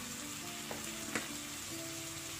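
Tomatoes fry in a pan for a spicy Odia fish curry, giving a steady close sizzle with a couple of brief sharper pops, no talk.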